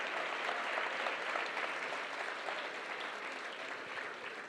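A church congregation applauds in a broad, continuous roar of many hands clapping, heard from a slight distance, holding steady and easing only slightly at the close.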